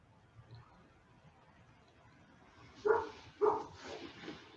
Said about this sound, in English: hopefully my dog stops barking